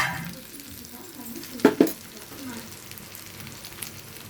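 Peanut powder with salt and garlic is stirred into brinjal frying in a pan, with a soft sizzle and two sharp scrapes of a spoon against the metal.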